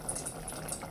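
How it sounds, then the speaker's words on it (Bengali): Hot oil tempering with coriander leaves is poured over a bean seed curry, making a brief, faint sizzle and bubbling hiss close by. "তেলের বাগার দিয়ে দিলাম"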